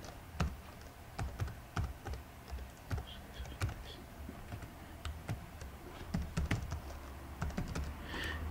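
Irregular bursts of computer keyboard keystrokes as a username is typed in while setting up an email server login, close and fairly quiet, with no talking.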